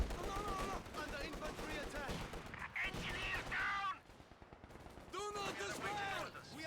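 Distant gunfire providing fire support in a Company of Heroes 2 match between Soviet and OKW forces: rapid machine-gun bursts and scattered shots crackle through the clip, a commentator talking over them throughout.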